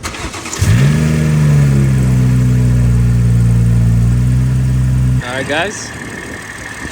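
A BMW M340i with a B58 engine and an RK Tunes front mount intake, set in Sports Plus mode, starts up and then holds a loud, steady idle with a deep hum for several seconds. It then cuts back, and someone speaks briefly near the start.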